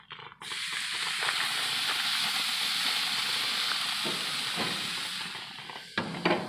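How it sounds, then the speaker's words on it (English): A steady, close hiss of steak sizzling on a hot grill, broadband and continuous, with a few faint clicks near the end. "Let that sizzle up for a bit."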